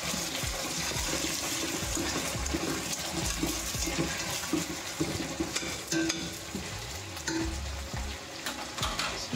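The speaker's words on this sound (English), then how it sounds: "going to stir this quickly. and let it fry a little bit." Steady, dense sizzling of potatoes frying in a pan for a broad bean curry, continuous throughout with occasional stirring scrapes and clatter, no voices.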